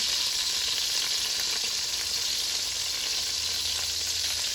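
Short ribs brown in a Dutch oven with a loud, steady frying sizzle close up that crackles without pause, and no one speaks.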